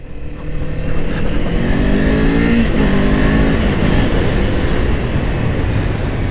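A Kawasaki Ninja 500 motorcycle on a test ride gives a loud, steady engine drone with road and wind rush, holding a constant pitch close up for the whole stretch with no talking.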